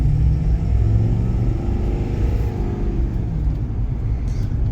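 Ford Powerstroke diesel work truck accelerating, a loud, close, steady low engine rumble and drone that holds throughout without any talking.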